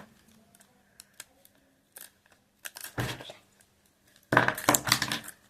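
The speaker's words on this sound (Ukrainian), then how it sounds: "Зараз я відкліплю скотч." Adhesive tape is peeled off close up, with a few faint clicks and handling sounds followed by two loud, crackling rips of tape being pulled free.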